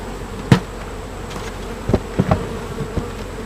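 Honey bees buzz around an opened beehive on a hot day during a routine inspection, with a steady faint hum and a few sharp knocks and bumps from handling the hive box.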